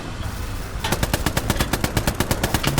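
Rapid automatic gunfire from the video game Hell Let Loose rattles off in a fast, even burst of sharp shots after a brief quieter lead-in.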